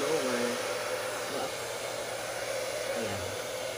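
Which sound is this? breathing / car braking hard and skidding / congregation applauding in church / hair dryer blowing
hair dryer blowing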